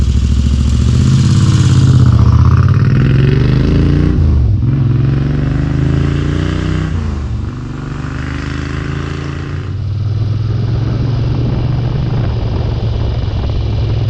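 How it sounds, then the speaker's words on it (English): A Moto Guzzi 1000S motorcycle engine fires up and settles into a steady, loud pulsing idle with a thudding, uneven rhythm and mechanical clatter, close to the microphone. "The engine starts easily and quickly settles into a regular pulsing thud."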